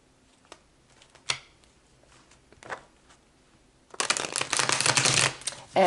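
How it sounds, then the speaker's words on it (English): Tarot cards riffle and scrape in short soft bursts, then a dense, loud shuffling flutter fills the final two seconds, close to the listener. "All right, let's pull some tarot."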